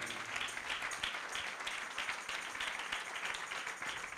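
A church congregation claps together in a fairly quiet, continuous wash of applause, with no voice standing out over it.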